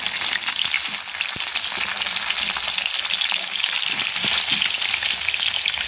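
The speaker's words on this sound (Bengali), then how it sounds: "এগুলোকে আমি ভালো করে লাল লাল করে আগে ভেজে নেব।" Pieces of fish crackling steadily in hot mustard oil, a dense, even sizzle heard up close for several seconds, with occasional soft clicks of a spatula and no speech.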